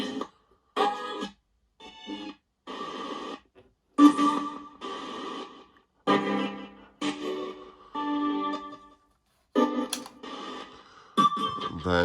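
Ghost box hack radio scanning rapidly through stations, a choppy run of short bursts of static and clipped broadcast fragments separated by brief silences, close and moderately loud.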